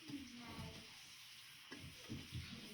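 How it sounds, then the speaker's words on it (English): A whisk stirs a heated, bubbling mixture for black bean enchilada sauce in a pan, giving soft scraping strokes over a steady sizzle, close and fairly quiet. "A whisk here. So mix it all together."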